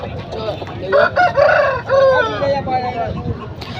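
A 9-to-10-month-old fighting rooster crows nearby at the Rayachoti market, one long drawn-out call with other fowl clucking in the background.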